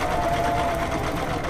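A Viking 6360 sewing machine running steadily through a triple stretch stitch, a close, continuous mechanical whir with a fast needle rhythm that carries from start to finish.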